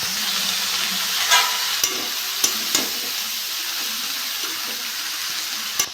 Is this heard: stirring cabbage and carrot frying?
yes